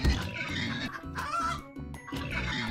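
Game chickens cluck in the video game Turnip Boy Commits Tax Evasion, short repeated fowl calls over busy game music and effects, loud and close.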